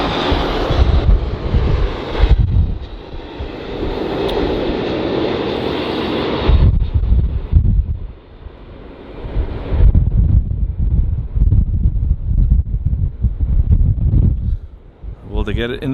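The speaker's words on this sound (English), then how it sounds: "They're coming in from Madrid, 7-year-old A330-200, an aircraft that I really like." An Iberia Airbus A330-200 arriving from Madrid lands at LAX, its engine roar and wind rush swelling and fading in waves, with a commentator talking over the noise.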